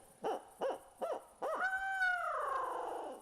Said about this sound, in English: It sounds like an owl